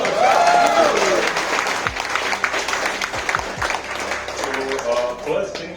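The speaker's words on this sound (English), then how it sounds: "let's welcome him with a big round of applause" Audience applause at a motorcycle riders' meetup welcoming a guest, loud and steady, with crowd murmur and some voices mixed through it.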